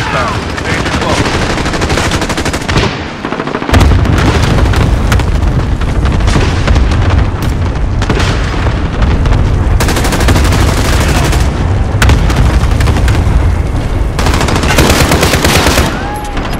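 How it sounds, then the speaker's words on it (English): Cluster strike explosions and rapid gunfire in Call of Duty: Modern Warfare, a loud, dense barrage of booms and automatic fire that surges after a brief lull and rolls on continuously with scattered blasts. "Allied cluster strike inbound. Danger close."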